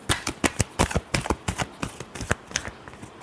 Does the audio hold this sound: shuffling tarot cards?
yes